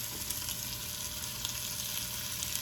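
Chicken pieces frying in a pan, a steady, dense sizzle and crackle filling the space continuously at moderate loudness, with no voices.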